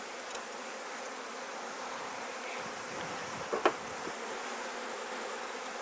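Honey bees buzz in an open hive frame during beekeeping, a dense continuous hum close by with a brief knock partway through.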